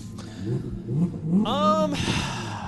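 A voice imitates a car engine revving, rising vroom sounds in a drawn-out burst over a low murmur, with talk around it.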